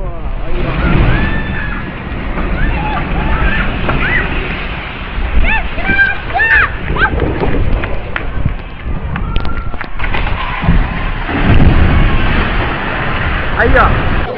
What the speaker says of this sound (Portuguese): A caixa d'água caindo ali, ó. A água já tá começando a cair, ó. Ela já tá tombando já, ó.